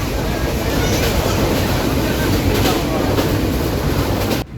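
Steady, loud rumbling rattle of a train rolling along its tracks, continuous throughout, with the noise dropping off abruptly right at the end.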